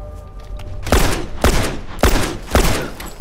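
Video-game gunfire in The Last of Us Remastered multiplayer: four loud, sharp shots at roughly half-second intervals, each with a booming low-end thud and a short decaying tail, over a quieter rumbling background.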